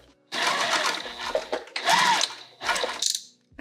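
A sewing machine stitches a bag in three loud, close bursts of rapid whirring, separated by short pauses.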